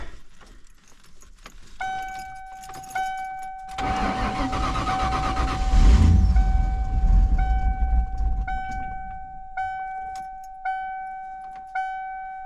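Keys jingle, then a 1995 Ford Mustang GT Convertible engine with its check engine light on cranks and catches, roaring up before settling to a steady idle while a chime beeps repeatedly.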